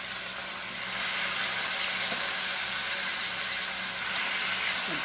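Pieces pan-seared in hot olive oil give a loud, steady frying hiss that holds evenly for several seconds, with faint clicks of handling beneath it.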